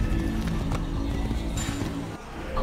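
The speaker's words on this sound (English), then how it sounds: "Deixa eu pegar o cavalo que ainda tá longe." Horse hooves clop steadily beneath a busy game soundscape in Assassin's Creed, a rhythmic gallop of moderate loudness that continues with no clear whinny and fades slightly near the end.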